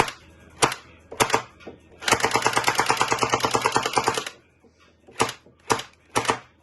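Bursts of rapid mechanical firing from an M249-style electric gel blaster, a few short volleys then a sustained two-second rattling stream, close and loud, with a faint motor hum underneath.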